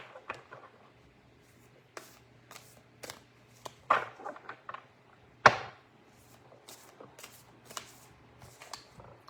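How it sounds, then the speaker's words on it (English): A deck of oracle cards being shuffled by hand: repeated crisp riffling and slapping bursts of card noise in short irregular runs, close and fairly quiet, with no talking. "Give it a few shuffles since I'm pulling my new cards back in."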